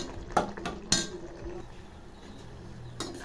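A utensil scrapes and clinks against a pan while bread halwa is stirred in sugar syrup, with a few sharp metallic knocks and softer scraping between them.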